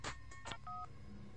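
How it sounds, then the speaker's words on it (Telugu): A cell phone gives off a quick run of short electronic tones, a few clipped beeps in quick succession, quiet and close, with no speech. "అది సెల్ ఫోన్ రాగం బావా."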